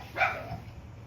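A dog gives one short, sharp bark at a distance, faint against a low background hum, with no talk.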